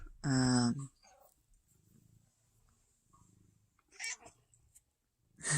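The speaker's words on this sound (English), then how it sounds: "Sorry, my cat's talking to me." A pet cat lets out one loud, close meow with a rising harmonic tone, then a quieter murmur of sounds and a short vocal burst follows near the end, with soft room noise between.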